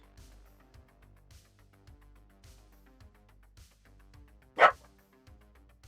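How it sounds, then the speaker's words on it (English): A single sharp, loud dog bark stands out once near the end, over a quiet background of soft, rhythmic music-like thumps. "Crazy dog. Just a crazy, crazy dog."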